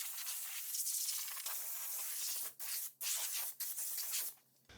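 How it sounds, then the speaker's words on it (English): Compressed air nozzle blasting dirt off the sliding door rail of a Mercedes Sprinter van: a loud, continuous broadband hiss in several long bursts with brief gaps between them, close by with no talking. "I'm gonna get the air nozzle so we can blow off this dirt"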